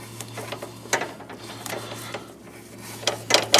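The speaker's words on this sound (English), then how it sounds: "Now we just tighten this down until it tightens up." Clicking ratchet strokes from a wrench tightening an alternator bolt on a Honda 1.7L engine, in short irregular bursts over a steady low hum, close and fairly loud.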